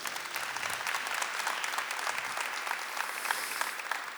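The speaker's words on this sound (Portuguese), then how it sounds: "Uma salva de palmas." A church audience at a Thursday adoration talk on Saint Padre Pio applauds, many hands clapping steadily at moderate distance, a continuous even patter with no voices over it.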